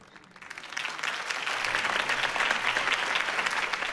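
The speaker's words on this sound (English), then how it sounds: "If only Mr. Wayne, my campaign's largest backer, could have heard that applause" Crowd applause after a campaign speech in Batman: The Telltale Series, swelling up from quiet into a sustained, fairly loud roar of many clapping hands that holds steady to the end.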